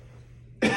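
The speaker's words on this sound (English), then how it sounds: "Get you to cough for me." During a physical examination, a patient gives a single short cough on request at the end, after a moment of quiet low hum.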